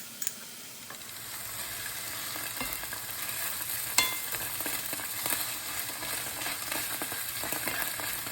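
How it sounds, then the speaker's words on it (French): Green curry paste and onions sizzle steadily in a hot pan, a continuous crackling fry close up with occasional stirring scrapes and a sharp tick near the middle. "je viens mélanger la pâte de curry vert aux oignons. Comme vous voyez, ça frétille"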